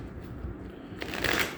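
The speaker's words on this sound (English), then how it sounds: "Okay, 3 shuffles, and then I'll cut the deck." A deck of tarot cards being shuffled, a quick riffling burst of card flicks near the end of a short, quiet stretch, close and soft.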